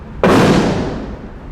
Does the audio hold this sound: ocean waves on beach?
no